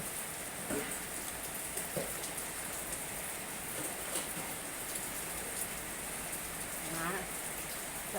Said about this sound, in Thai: ท่ามการสายฝนนะค่ะเด้อฝนตก ฝนตก